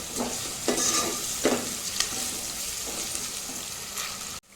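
Ginger paste stirred into a frying fish curry base for fish pulusu, with a continuous close sizzle and repeated spoon scrapes against the pan at an uneven rhythm, no voices.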